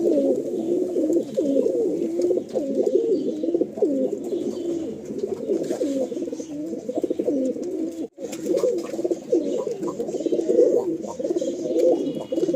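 Andhra breed pigeons coo steadily in a loft in Kolkata, a dense overlapping chorus of soft, rolling calls that continues close and unbroken apart from a brief dip.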